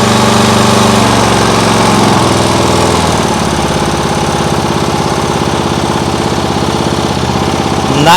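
A lawn mower engine rigged as an outboard motor runs steadily at half throttle, loud and close, with a continuous buzzing drone and a rapid knocking pulse that shifts slightly partway through.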